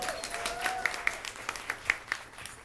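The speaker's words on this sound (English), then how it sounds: "Clap, everyone." Scattered audience clapping at a community interview event, a few distinct sharp claps standing out over a thin patter, with some whistle-like tones mixed in.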